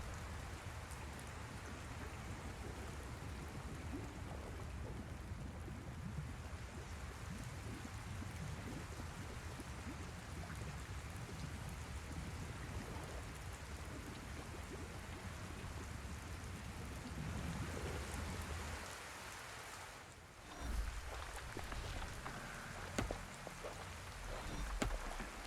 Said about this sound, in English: Talia's mighty storm once again stood at her disposal.